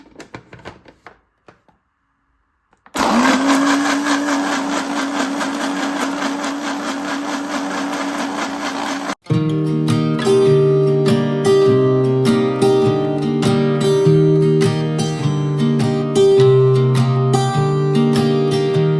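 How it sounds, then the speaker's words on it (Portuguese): A kitchen blender whirs loudly for several seconds as it blends passion fruit pulp, then stops abruptly. A rhythmic mechanical clatter with steady tones follows for the rest of the clip, after a quiet start with faint clicks. "agora vou levar tudo a polpa do maracujá para dentro do liquidificador para bater."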